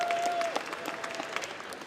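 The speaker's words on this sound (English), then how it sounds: "That deserves a round of applause." A crowd on the U.S. House floor claps together in steady, lively applause that holds for a couple of seconds.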